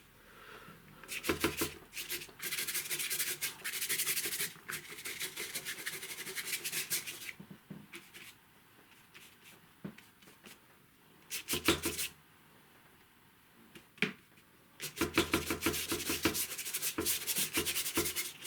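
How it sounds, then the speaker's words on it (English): A soft one-inch varnish brush sweeps acrylic paint across a sky in an abstract river scene, making bursts of dry, rubbing strokes that come in several spells separated by quieter pauses. "This brush is quite soft. It's an inch varnish brush."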